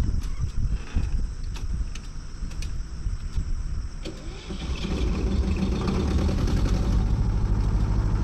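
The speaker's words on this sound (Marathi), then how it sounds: "जनरेटर चालू करायला गेलाय." A petrol generator runs during a power cut, giving a steady, loud mechanical drone with a low rumble and some intermittent clicks, and growing slightly fuller toward the end.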